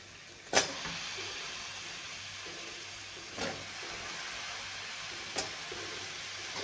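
Eggplant pieces sautéing in oil with turmeric give a steady, quiet sizzle close by, broken by three brief sharper crackles or stirring scrapes.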